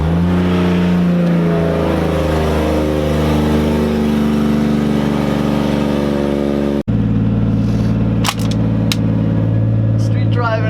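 A truck engine idles steadily with a low rumble as it warms up, then cuts to a louder, closer run with revving and a sharp transient, as if driving toward town; the truck is being checked for fender rolling.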